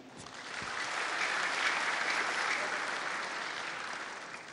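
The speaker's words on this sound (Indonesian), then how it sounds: "Silakan Anda yang memberikan tepuk tangan." Sustained audience applause at a Golkar party disaster-relief gathering, a dense wash of clapping that swells and holds steady for several seconds, fairly distant and with no talk over it.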